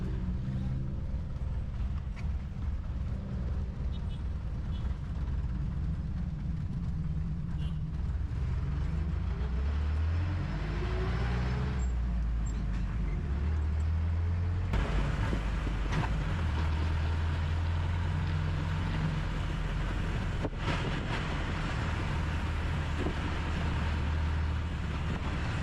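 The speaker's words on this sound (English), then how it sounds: "We're off, we've got my ride on my jeepney." A jeepney ride on a road heading toward the Temple of Leah, with a continuous rumbling engine drone and wind noise throughout, occasional shifts in pitch and a few sharp bumps along the way.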